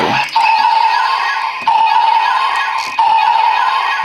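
A Maryu Brace DX Drago Timer toy sounds off with a loud, bright electronic tone, held and repeating in three nearly identical bursts, close and alone with no talking.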